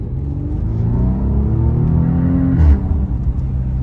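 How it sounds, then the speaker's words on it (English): A 2019 Porsche Cayenne engine pulls hard under acceleration, a deep steady exhaust drone rising in pitch, close and loud throughout. "Beautiful exhaust note."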